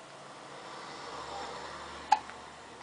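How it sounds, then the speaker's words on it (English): A single short hiccup sounds against a quiet background, followed by a faint softer catch just after. "Go away, hiccups. I don't want you anymore."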